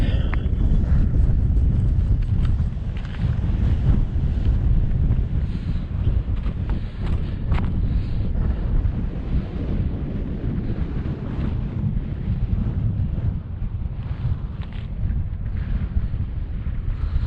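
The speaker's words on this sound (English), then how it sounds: "Quite a chilly wee wind." A chilly wind gusts across a Munro summit in Glen Affric, a constant loud roar buffeting the microphone up close with no letup.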